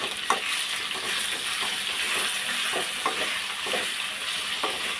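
Semi-ripe mango pieces with curry leaves sauté in a pan for sweet mango pachadi, a steady hiss of frying broken by a few sharp scrapes of stirring, close and fairly loud with no talk.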